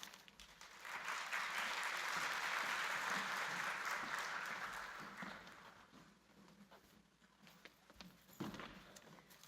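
An audience at a San Jose State University graduate orientation gives a speaker a welcoming round of applause, rising to a full sustained clap and then tapering off into scattered claps and room noise.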